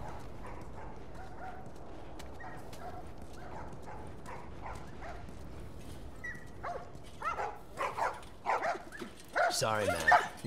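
Dogs bark in The Last of Us Part 1, starting as faint, scattered yips under a steady ambient bed and building into a louder cluster of close, rapid barks near the end.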